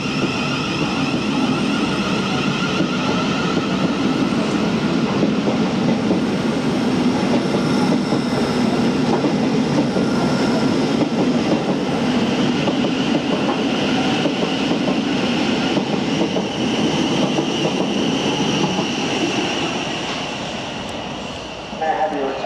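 A Thameslink Class 700 train runs steadily on its rails, a continuous loud rolling rumble with faint clicks, recorded from on board and easing slightly near the end.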